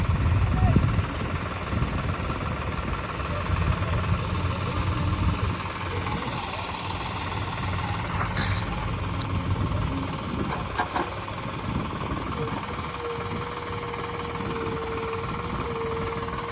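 A tractor engine idles steadily on farm land being levelled with soil, a low continuous rumble running throughout with faint background noise and occasional clanks.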